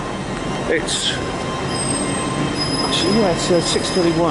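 A train at Reading Station rumbles past with loud, high wheel squeals and a continuous rail clatter, while a person speaks briefly nearby.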